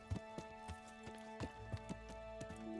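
Horse hooves clip-clop in a steady walking rhythm in the medieval video game Kingdom Come Deliverance. The hoofbeats are fairly faint and sit under a sustained tonal music bed.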